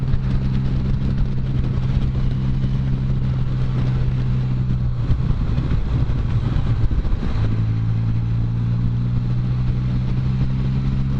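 A Can-Am Spyder three-wheeled motorcycle rides slowly along a technical road with off-camber turns, its engine a steady, close, low drone with a faint pitch shift midway, mixed with constant wind rush.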